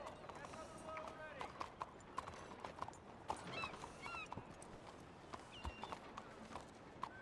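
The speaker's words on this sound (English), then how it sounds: "There's like 2 horses." Soft clip-clop of two horses' hooves at a walking pace in a video game, WildRP, fairly faint, with light background noise and occasional talk.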